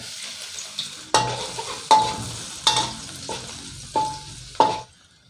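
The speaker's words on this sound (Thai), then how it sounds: "ตั้งกระทะใส่น้ำมันร้อนก็ใส่กระเทียมนะครับ" Garlic frying in hot oil, a steady sizzle broken by about six sharp bursts of stirring and scraping against the pan, close by with no talk.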